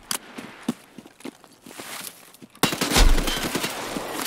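KS-23 shotgun gunfire in the Escape from Tarkov video game: scattered sharp shots and footsteps, then a sudden loud heavy blast with a booming low thump and ringing tail, near and forceful.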